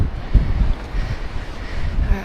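Wind blowing across an exposed Welsh hilltop on the Cambrian Way, a steady low rumbling rush with gusty buffeting against the microphone, close and without talk.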